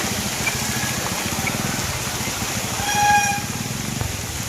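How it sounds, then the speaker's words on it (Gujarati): Heavy, steady rain pours down in Vadodara during flooding, a dense continuous hiss with a low rumbling wash underneath, constant and close, broken only by a faint brief tone partway through. "વરસાદ સતત વરસી રહ્યો છે"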